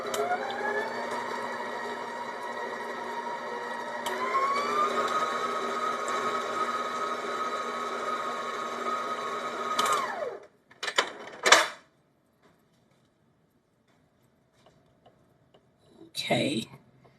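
Electric hand or stand mixer whirring steadily as it blends cheesecake batter with vanilla, a continuous motor drone that shifts pitch partway through, then cuts off and is followed by scattered clinks and bumps.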